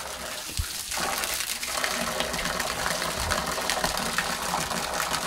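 Fresh spring water flowing in a Kyoto forest, a continuous close gushing and splashing stream, steady and fairly loud, with no talking over it.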